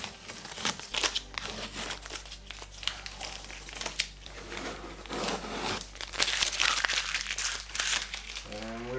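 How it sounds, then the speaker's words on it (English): Masking tape peels off a Model 3 rear light, producing close, uneven crinkling and tearing rustles over a steady low hum. "we can just remove the masking tape"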